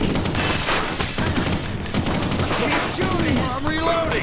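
Rapid gunfire in The Punisher video game, dense crackling bursts of shots that fire continuously and loudly, with shouting voices over the shooting.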